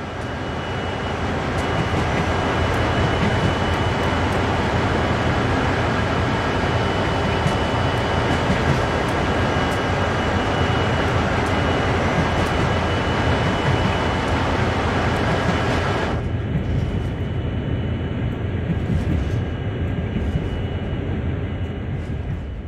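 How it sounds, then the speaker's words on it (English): A locomotive coasts along in the video game Train Sim World, its steady rolling rumble and track noise loud and continuous, the sound changing sharply as the view shifts partway through. "Have a play with moving the camera around while the train is coasting along."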